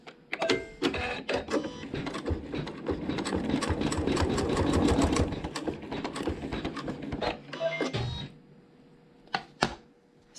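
A sewing machine stitches a quilt block seam in fabric, a rapid mechanical whirring run of needle strokes that starts with a few short bursts, runs steadily for several seconds, then slows into brief stops and single clicks.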